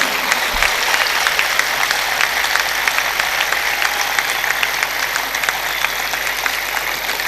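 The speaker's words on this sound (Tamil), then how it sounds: "நீங்கள் எல்லாம் நம்பினால் கரகோஷம் கொடுங்கள், மிகுந்த கரகோஷம் கொடுங்கள்" Sustained audience applause fills the hall at a college annual day celebration at an institute of technology, a steady dense clapping that carries loud and even throughout with no voices over it.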